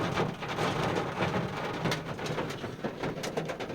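A heavy downpour breaks over a soybean field as a thunderstorm starts, dense rain hissing and pattering steadily and loudly, with no voices.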